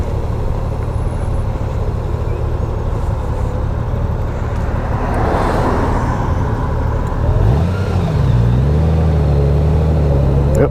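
A 2019 Honda Goldwing motorcycle pulls away from a stop in second gear, its steady engine hum rising into a clear low climbing tone as it accelerates toward the end, close and fairly loud with road noise.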